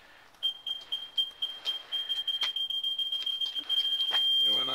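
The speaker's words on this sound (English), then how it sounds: "backup warning radar system on this Model A. It's beeping because the snowflakes are activating the sensors" A backup warning radar system fitted to a Model A Ford beeps steadily in snowfall, a rapid run of high electronic beeps that quickens toward the end and then turns into one continuous tone.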